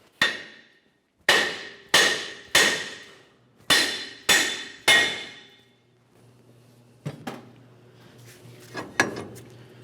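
A hammer strikes the steering knuckle of a 1994-2002 Dodge Ram 2500 to free the lower ball joint: about seven loud, sharp metallic blows in a steady rhythm, then a few lighter clinks and knocks.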